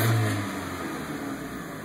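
A Dodge Neon engine gets a light touch of the gas: a brief low rev at the start that settles back into a steady close idle hum.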